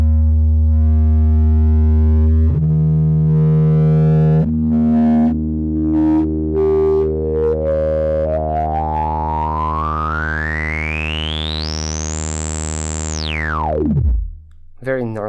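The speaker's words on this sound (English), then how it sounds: "it feels like it's basically the fundamental frequencies self-resonating with the resonance" Self-resonating filter of an Avalon Harmonics Puff stereo multimode filter module: a loud synth tone with stacked harmonics as the resonant peak sweeps upward in steps into a piercing whistle, then plunges steeply and cuts out near the end.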